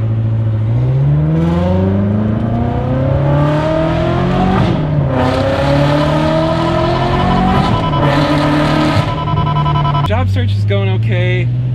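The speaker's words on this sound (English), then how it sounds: "let's just go for a drive then" A Ferrari drives and accelerates, its engine note climbing through rising harmonic sweeps with a gear change near the end, steady and close throughout, with talk running over the engine.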